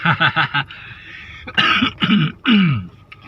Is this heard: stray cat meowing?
no